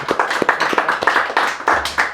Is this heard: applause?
yes